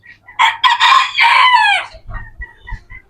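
A rooster among fancy feather-footed chickens crows once loud and close, a long rising-falling call, followed by a few soft low clucks.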